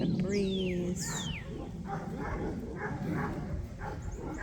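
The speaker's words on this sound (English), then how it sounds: "the dogs in the backyard are going crazy" Dogs in a backyard bark and yip in short bursts on a breezy cloudy day, with whining, high yelps and a steady outdoor hum under them, a little distant and not very loud.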